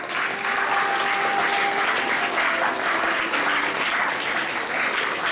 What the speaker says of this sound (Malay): Tepuk tangan untuk Cikgu Lika